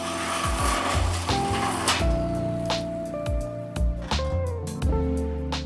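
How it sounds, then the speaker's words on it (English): A reciprocating saw with a long blade cuts through a BMW E8X/E9X rear subframe, a loud continuous rasping grind with shifting pitch and rhythmic strokes close by. "we can use a sawzall with the long blade to cut the subframe up"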